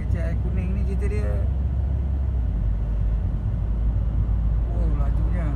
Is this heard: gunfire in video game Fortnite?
no